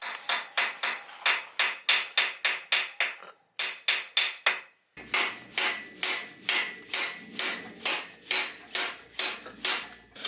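A hammer whacks a crank gear onto an LS1 engine in a steady run of sharp metallic strikes, about two per second, with a brief pause partway through.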